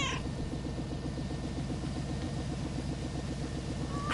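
A cat meows in the video game Lake, set against a steady, low engine-like hum that runs the whole time without pause.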